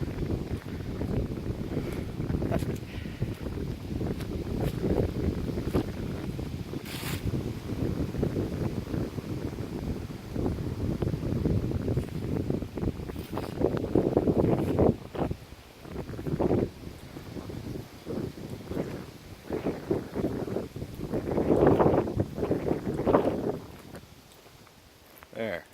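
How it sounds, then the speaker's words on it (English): Strong wind blows outdoors in a cemetery, buffeting the microphone with a continuous low rumble and harder gusts that rise and fall throughout, with faint rustling and footsteps. "That's a lot of wind."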